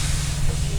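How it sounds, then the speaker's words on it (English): A CR England truck lets out a loud, steady hiss of air from its brakes being released, a continuous burst of noise lasting under a second with a low rumble beneath it. "CR England truck, like releasing his hydraulic brakes or whatever that is."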